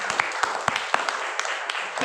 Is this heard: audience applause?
yes